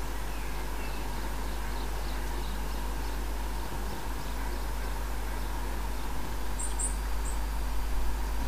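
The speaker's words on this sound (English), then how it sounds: "We can hear its babies saying peep, peep in the background." Baby robins peeping in a garden near a bird table, high thin chirps repeating faintly in the background under steady outdoor noise.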